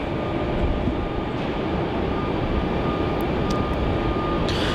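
An airliner takes off from runway 27 at Melbourne Airport, its engines a steady, broad roar that holds at an even level throughout without any talk.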